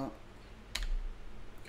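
A computer keyboard typed on while writing a string of Python code, heard as one short, soft burst of key clicks midway through, with quiet background hiss.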